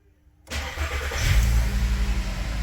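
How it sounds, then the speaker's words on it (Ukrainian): A VW Passat's engine cranks and catches after a half-second of quiet, then settles into a steady, rumbling idle close by. "Все, все завелось, машина працює"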